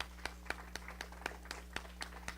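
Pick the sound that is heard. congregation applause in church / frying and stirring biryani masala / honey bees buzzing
congregation applause in church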